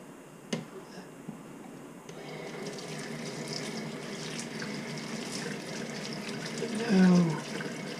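Water runs steadily from a sink tap, a continuous hissing splash after a couple of faint knocks, rising briefly near the end, with a voice murmuring in the background.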